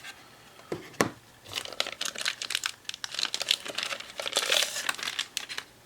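Plastic packaging bag from an SSP18 carbine kit crinkling up close, with a sharp rustle near the start followed by a steady run of crisp crackles and crumples, alone without talk.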